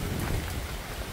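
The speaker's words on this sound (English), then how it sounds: "A few gusts of wind here and there, but not much." Hurricane Ian winds in Tampa in 2022, a brief rough gust buffeting close by with low, blustery rumble and faint watery wash underneath, no speech.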